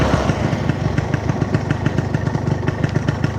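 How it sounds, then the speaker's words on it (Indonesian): A Yamaha RX King two-stroke motorcycle engine with a replaced exhaust runs steadily, a loud, close, rapid popping putter with constant rhythm and no voices. "Ini suaranya, knalpotnya udah diganti ya."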